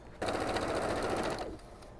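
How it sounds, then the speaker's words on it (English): A sewing machine runs in one steady, rapid burst of stitching around the seam of a fabric envelope, close and loud, starting abruptly and stopping after about a second and a quarter. "I'm gonna also just sew all the way around so that I have a nice crisp seam all around the edges"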